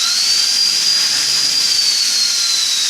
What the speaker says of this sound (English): if I give the throttle a little bit of a blip, we should get some motor movement